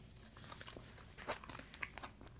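Crisp bites and wet chewing of crunchy roasted potato with black beans and zucchini, close to the mouth, with a few sharp crunches standing out among softer mastication.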